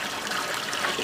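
Water splashes and trickles steadily as it is poured outdoors, a continuous close wash of liquid sound with no voices.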